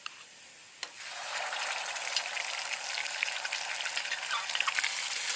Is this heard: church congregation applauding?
no